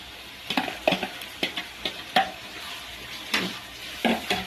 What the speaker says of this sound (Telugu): ఇప్పుడు ఉల్లిపాయలు వేగాయండి.